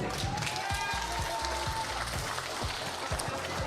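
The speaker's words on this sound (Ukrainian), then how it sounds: "Аплодисменти йому." A crowd at a wedding rehearsal gathering gives dense, continuous applause throughout, with a faint thin whistle-like tone running briefly through it.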